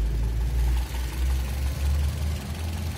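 A used 2010 Toyota Vios E sedan idles steadily with its engine bay open, a smooth, quiet low hum that holds even throughout with no voices over it.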